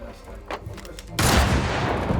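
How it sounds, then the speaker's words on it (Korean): A loud, close gunshot fired during an assassination attempt on a governor-general in a period film set in Korea, bursting in as a single sharp blast that rings out after a quieter stretch. "하늘을 찌를 것 같은 총성"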